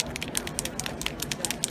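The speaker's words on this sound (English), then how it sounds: "It's got the glitter in it, so you hear the shaky shake." Can of Marabu Fashion Shimmer glitter spray paint shaken rapidly, giving a quick run of bright rattling clicks in an uneven rhythm, close and moderately loud, with no talking.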